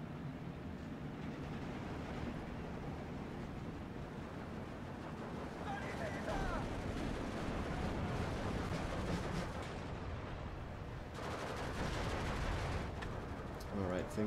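Heavy gunfire and booming shellfire from an LG-42 recoilless gun firing HEAT shells in a World War II strategy game, with dense overlapping blasts and rumbling battle noise throughout, loud and continuous.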